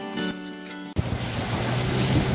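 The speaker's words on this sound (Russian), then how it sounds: "Во, пошла волна." A wave washes along a taiga river during a fishing trip, a sudden surge of rushing water that follows a moment of quieter ambience and keeps building.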